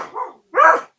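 Two barks from a beagle, a shorter softer one followed by a louder, fuller one after a brief pause, fairly close.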